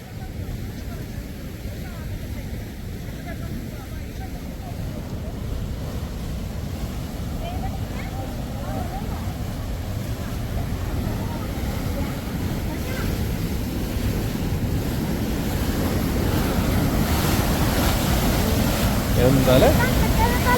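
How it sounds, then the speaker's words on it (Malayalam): Water rushes from a dam spillway in a continuous broad roar that slowly builds, with wind buffeting the microphone outdoors. "ഇത് നമ്മുടെ ആ ഡാമിൽ നിന്നുള്ള വെള്ളം അങ്ങോട്ട് വരണതാണ് സ്പില്ല്."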